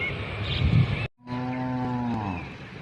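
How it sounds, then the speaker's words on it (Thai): A cow lets out a long, low moo nearby, clear and sustained after a brief pause, with soft outdoor ambience around it, at a reservoir by a wooden bridge in Chumphon, Thailand. "เสียงวัวก็มา"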